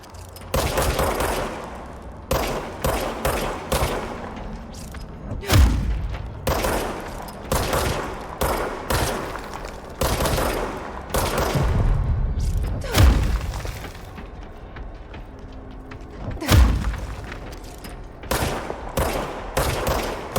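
Gunfire from a weapon in the video game Control: sharp bursts and single loud shots with booming impacts, recurring in clusters across the stretch, close and loud.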